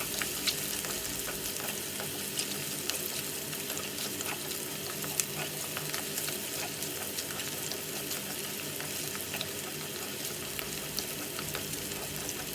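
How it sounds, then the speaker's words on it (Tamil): Small shallots frying in oil with garlic for a garlic kuzhambu, a dense, continuous crackling sizzle with faint stirring, close and steady from start to finish, no talking. "இப்போது சின்ன வெங்காயம் நான் கட் பண்ணி வச்சுருக்கேன், அதையும் உள்ளே சேர்த்து நல்லா வதக்கி விட்டுக்கலாம்."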